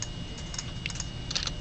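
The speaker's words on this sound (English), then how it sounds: "we are typing some commands" Soft, quick keyboard typing with uneven clicks and brief bursts of keystrokes over a steady low hum, fairly faint.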